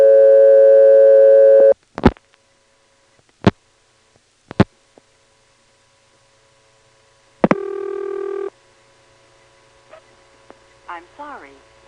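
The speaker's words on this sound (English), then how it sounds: "you'll see what the toll machine uses as its ringtone and its intercept recording" A 1977 step-by-step toll machine in Ramseur, North Carolina answers a call to a vacant code. A steady tone gives way to several sharp, separate clicks, then one short ringing burst, followed by faint, quiet line noises.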